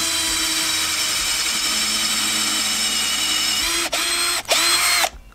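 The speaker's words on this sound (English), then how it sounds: "we're going to drill a hole into this plastic pipe" Power drill boring a hole into a plastic pipe cap, a steady close whine that dips briefly twice near the end, surges, then stops.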